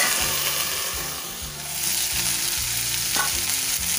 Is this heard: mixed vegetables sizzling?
yes